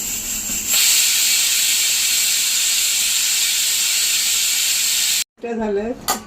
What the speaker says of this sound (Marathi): याच्यात आता आपण चार शिट्ट्या करून घेऊ